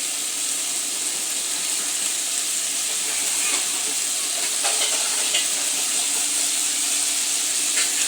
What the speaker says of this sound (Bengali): এবার সব মশলা দিয়ে দেওয়ার পর আবার 2-3 মিনিট আবার ভাজতে হবে